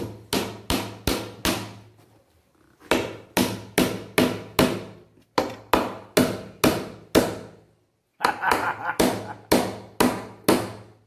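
Hammer blows driving a nail into a small wooden board, sharp close strikes in quick groups of four to six with short pauses between groups.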